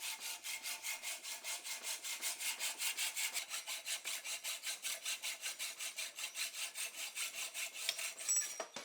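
Hand sawing and filing on a bicycle steer tube during a build, a steady rhythmic back-and-forth rasp of close strokes, roughly three per second, repeating without pause and with no talking.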